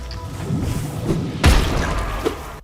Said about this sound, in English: When contact is made, a devastating explosion is created